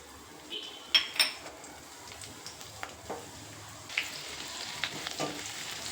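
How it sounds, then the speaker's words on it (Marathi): Sliced garlic fries in hot oil for lasuni methi, a faint, steady sizzle broken by a few light clinks of a spoon against the pan, with no one talking. "आधी हा लसूण आपल्याला ह्या तेलामध्ये टाकून घ्यायचा आहे।"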